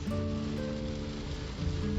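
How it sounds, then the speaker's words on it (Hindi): Heavy rain on the road near Rameswaram, a steady dense hiss heard from a moving vehicle with a low engine hum underneath, continuous and fairly quiet. "रामेश्वरम पहुंचते इतनी तगड़ी बारिश हो रही है"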